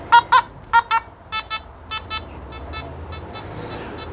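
A Nokta Simplex Plus metal detector sounds off on a musket ball, with a series of sharp electronic beeps in quick pairs and singles that fade and weaken toward the end as the coil is lifted.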